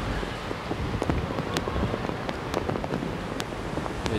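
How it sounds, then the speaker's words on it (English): Heavy rain belts straight down on an open rugby ground during a sevens match, a steady dense hiss with scattered sharp drop ticks, loud and continuous. "The rain now, it's come belting down."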